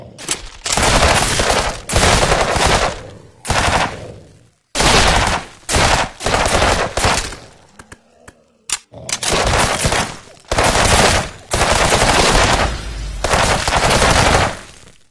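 Bursts of rapid automatic gunfire from the VR game Monster Rampage VR, loud and dense, coming in repeated volleys of a second or two separated by short pauses, with a quieter stretch in the middle.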